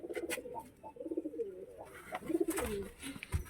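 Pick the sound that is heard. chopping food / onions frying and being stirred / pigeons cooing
pigeons cooing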